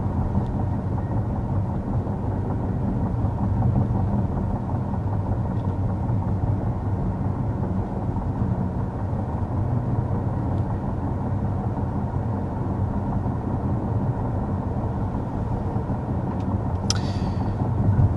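Inside a 2024 BMW i7 M70 cruising at 55 mph, a steady low road and wind hum fills the cabin, quiet and even throughout, with a brief higher tick near the end.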